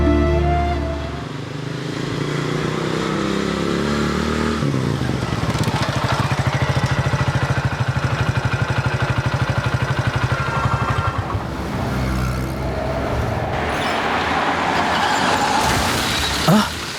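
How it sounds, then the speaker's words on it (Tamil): A road vehicle collides with something, a loud broadband crunch and scrape following a rumbling approach, close and harsh with crushing noise lingering afterward. "வண்டி ஏதோ இடிச்சிருச்சு"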